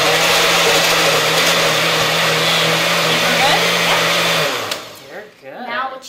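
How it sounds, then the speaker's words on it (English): A blender whirs loudly and steadily, churning healthy ice cream into soft serve, then cuts off and winds down near the end as a voice speaks over the fading motor. "We can blend it up, and it'll come out to be soft serve ice cream."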